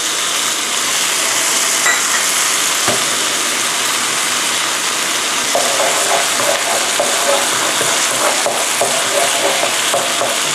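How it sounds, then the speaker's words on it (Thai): Fermented pork sausage and minced pork sizzle steadily in a hot wok while a spatula scrapes and stirs them, a loud continuous frying hiss with occasional clacks. "ผัดแหนมกับหมูสับนะคะ ให้สุกนะคะ"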